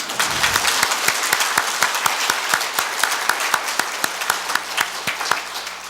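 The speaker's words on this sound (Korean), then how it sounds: "분위기상 여러분이 박수를 치셔도 좋습니다." A church congregation at an afternoon revival meeting claps together in a steady, even rhythm, each beat sharp and distinct above a soft background of scattered clapping.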